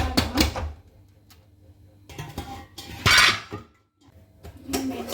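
A metal kadhai (wok) set down on a gas stove while cooking a bhaji saag, giving several loud metallic clanks and scrapes spread across a few seconds, with quiet gaps between them.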